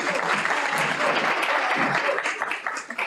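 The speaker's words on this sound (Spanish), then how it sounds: "Yo quiero que por favor le den un aplauso al profesor." An audience applauds a professor at a university lecture event, steady dense clapping filling the room for about three seconds before thinning out at the end.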